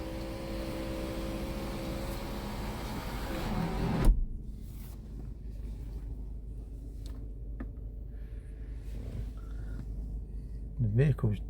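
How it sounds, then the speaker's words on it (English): A 2019 BMW X1 20i xLine xDrive power tailgate runs with a steady motorised whir for about four seconds, then shuts with a firm thunk. Faint interior room tone and a few small clicks follow. "This shuts the tailgate"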